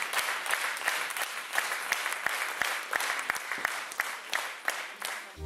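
Audience in a hall at a children's music school anniversary celebration applauds steadily, a dense wash of many hands with a few sharper individual claps standing out, fairly close and sustained throughout.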